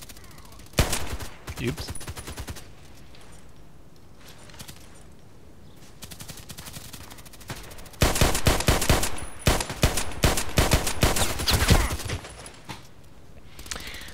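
Gunfire in the online shooter Contract Wars rings out as scattered single shots early on, then turns into a dense, loud exchange of rapid shots. A voice says a brief word partway through.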